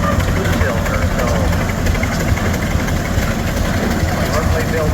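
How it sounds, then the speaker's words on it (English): A single-cylinder Rumley OilPull 1530 tractor engine runs steadily at an outdoor tractor show, a loud, continuous low throb with a rough, uneven pulse and no break across the stretch. "1530 is the only oil pull that operates on a single cylinder."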